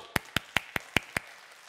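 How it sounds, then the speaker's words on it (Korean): Church congregation clapping during a Sunday sermon: six sharp, evenly spaced claps in quick succession, fairly quiet and close, then stopping abruptly. "박수."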